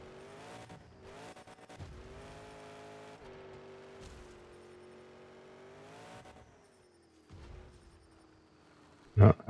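Monster trucks racing in Monster Jam Showdown, with droning, revving engines that shift pitch over several seconds, a brief dip, and a loud burst of crashing at the end.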